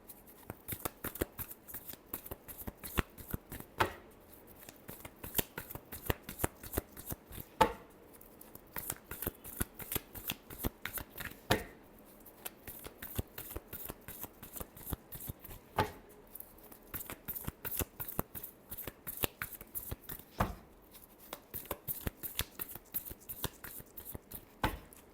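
Tarot cards being shuffled by hand, a long run of quick, crisp riffling flicks in bursts with short pauses, faint and close, without talk.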